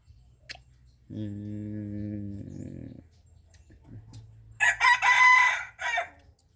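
A rooster crows once, a loud harmonic call that breaks into a rough tail, with softer clucking and a second burst of crowing shortly after.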